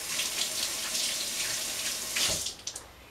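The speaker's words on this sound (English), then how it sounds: "So I'm going to just rinse my hands quickly" Hands rinsed quickly under a running kitchen tap during cookie baking: a steady close rush of water for a few seconds, then the flow shuts off and leaves a few trailing splashes.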